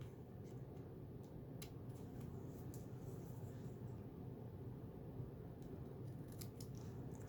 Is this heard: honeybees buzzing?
no